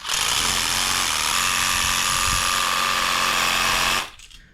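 A Rust-Oleum spray paint can is shaken hard and fast, making a dense, continuous buzzing rattle that runs loud for about four seconds and then stops abruptly.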